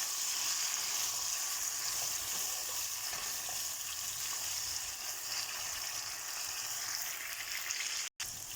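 Vegetables frying in a pan as they are stirred, producing a dense, continuous sizzle that runs steadily throughout and cuts out for an instant near the end.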